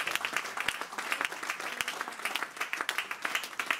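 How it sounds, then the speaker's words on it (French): A church congregation claps in praise to God, a dense stretch of hand claps with sharper individual slaps standing out, moderately loud and steady throughout, with no talking. "Donnons une main d'acclamation au Seigneur"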